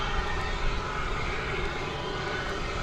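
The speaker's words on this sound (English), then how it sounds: "It's an Airbus A321" An American Airlines Airbus A321 jet at DFW airport gives off a steady, broad engine roar that holds level and fairly loud throughout, with no voices.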